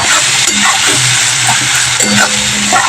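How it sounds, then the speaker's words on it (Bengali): Spice paste for a Bengali egg-and-poppy-seed curry sautéed in oil, a steady close sizzle broken by repeated scraping strokes of a spoon through the pan, with no voices. "তাই আমি অনেকক্ষণ ধরে ভালো করে মশলাটাকে কষিয়ে নিচ্ছি।"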